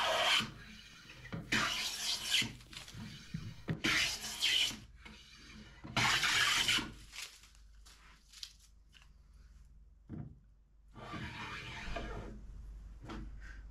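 A wooden workbench leg being smoothed with a hand plane after glue-up: about five close, loud rasping strokes with short pauses between, then quieter scraping toward the end.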